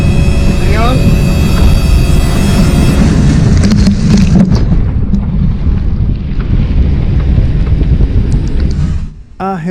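A large, steep breaking ocean wave strikes a catamaran at sea, a loud, sustained roar and rush of water with heavy wind buffeting the microphone, easing off near the end.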